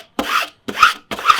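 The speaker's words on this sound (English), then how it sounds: "And then I like to go ahead and burnish it again" A burnishing tool rubs over a stencil on canvas in three quick, close, rasping strokes with short silent gaps between them.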